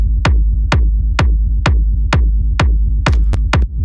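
Techno kick drum with stereo reverb, a deep booming thump repeating at a steady four-on-the-floor pulse, eight hits with a roomy tail behind each, loud and alone.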